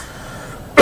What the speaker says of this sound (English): Oh, I got a bit of a cough there.